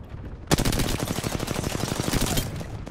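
Rapid automatic gunfire in a competitive online shooter game erupts suddenly and keeps going as a sustained, loud, evenly spaced burst of shots lasting a few seconds.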